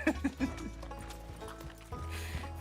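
Horse hooves clip-clopping in a roleplay video game, a quick run of loud close hoofbeats at the start, then a steady galloping rumble carrying on underneath, with a brief whinny-like tone.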